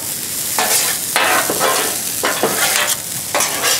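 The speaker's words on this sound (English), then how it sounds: "We're just trying to get that butter melted. Get into that rice" Butter melting into rice in a pan is stirred with steady, repeated scraping strokes over a soft sizzle, close and fairly loud, with no voices.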